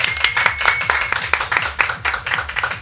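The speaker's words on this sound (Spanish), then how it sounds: "recibimos con un fuerte aplauso con ese set" Audience applause for a DJ set at a live show, a close, fairly loud burst of hand clapping with individual claps audible over a low bass hum from the sound system.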